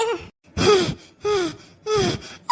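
Cartoon character gasping and panting hard after running, voiced breaths in three or four loud, close bursts with short pauses between them.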